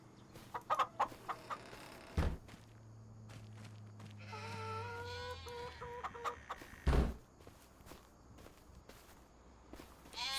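Chickens cluck and squawk inside a coop in Farming Simulator 25, with scattered footsteps and a few thuds, the calls rising in a busy burst midway.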